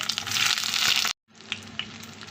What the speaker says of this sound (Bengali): এখন আমি বেগুনগুলোকে হালকা ভেজে নেব লবণ দেবো না শুধু হলুদ দিয়ে ভেজে নেব